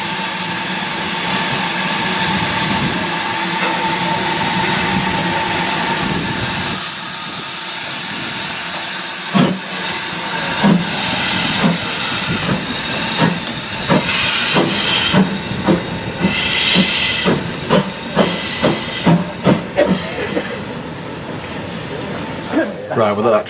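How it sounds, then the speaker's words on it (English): Steam locomotive on the Keighley & Worth Valley Railway during a spring steam gala, a steady hissing roar and rumble that gives way to a run of sharp, rhythmic exhaust chuffs picking up pace, with people talking nearby. "we'll let that train go back to Keighley now"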